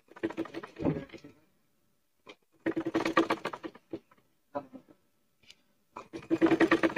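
A sewing machine stitches a round bolster pillow cover in short bursts of rapid, close mechanical whirring and ticking, separated by pauses.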